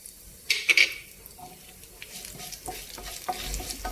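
Fenugreek seeds and dried red chillies sizzle and crackle in a hot pan, with a few sharp stirring scrapes near the start followed by a steady frying hiss.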